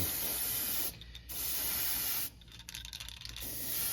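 An airbrush sprays a base coat onto a fishing lure, a steady close hiss broken by two short pauses and a sputtering, uneven stretch before the spray resumes.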